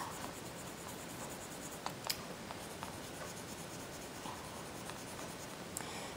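Soft, continuous scratching of a colored pencil on paper, steady strokes with a few faint taps, close and quiet with no talking.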